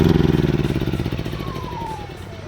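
A DeWalt low-noise generator engine runs just after starting, with a loud, rapid pulsing chug up close that eases and smooths out into a steadier, quieter hum.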